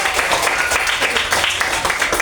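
Schoolchildren in a classroom clapping together, a short, loud burst of brisk rhythmic applause close by that stays steady throughout.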